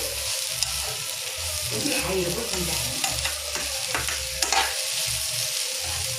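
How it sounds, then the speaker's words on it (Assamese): Soybean chunks and potato fry and sizzle in a pan, stirred steadily for several seconds with repeated scraping strokes over a constant hiss. "এইখিনিও মই এতিয়া 1 মিনিট সময় ভাজি ল'ম।"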